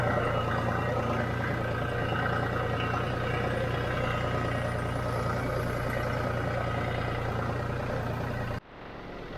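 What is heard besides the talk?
John Deere tractor engine idling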